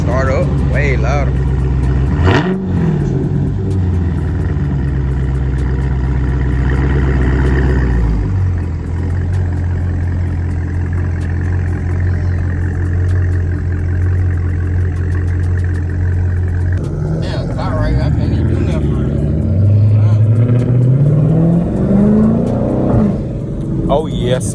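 Dodge Scat Pack V8 with muffler and resonator deleted, a loud deep exhaust that idles with a steady rumble, then revs and swells at the start and again near the end, with people talking over it.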